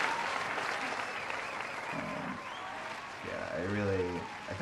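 An audience applauds at a poetry anthology launch event, a steady wash of clapping that continues at moderate level while a voice talks over it in the later part.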